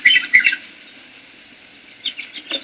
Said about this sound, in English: The sun was shining, the birds were singing